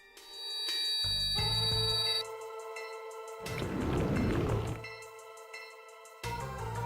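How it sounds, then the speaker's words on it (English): A Pouring Rain spell effect from the Vanguard Bandits tactical game: chiming synthetic tones give way to a burst of rushing rain-like noise, then fading bell notes, all moderately loud with no talk. "going to go ahead and use Pouring Rain on Reyna"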